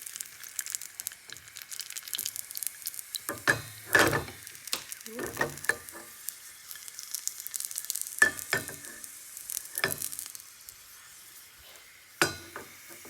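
Prawn and chive dumplings fry in a pan, giving a steady soft sizzle with scattered louder crackles and spatters, close and alone with no voices.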